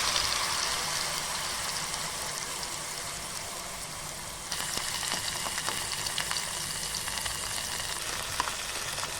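Potatoes with cumin frying in hot oil, a steady dense crackling sizzle that briefly dips and then resumes more sharply, close and continuous with no voices.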